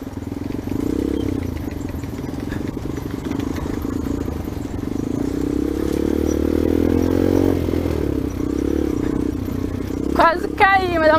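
A motorcycle engine drones and rises in pitch as it rides over a rough dirt trail, with clattering and scraping underneath, then a sharp high cry near the end.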